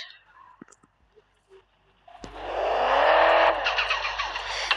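A car's engine starts after a quiet stretch of small clicks, then runs as a steady, fairly loud idle with a slight rise in revs as the car is moved and repositioned.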